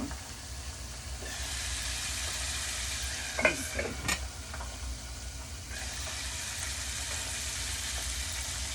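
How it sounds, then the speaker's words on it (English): Tilapia fillets fry in a pan with a steady, close hiss of sizzling oil, broken midway by a few clinks and scrapes of a utensil, while a voice briefly speaks. "It's bad enough I'm already frying fish."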